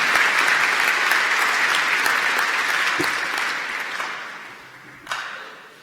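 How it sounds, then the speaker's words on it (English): Sustained audience applause at a City of Glasgow College graduation ceremony in November 2016, a dense wash of clapping that slowly thins and fades toward the end. "Ladies and gentlemen, I think they all deserve a huge round of applause."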